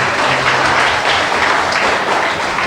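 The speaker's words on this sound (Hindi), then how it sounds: "जोरदार तालियां।" Loud, dense audience applause at a motivational talk, steady and continuous throughout with no speech over it.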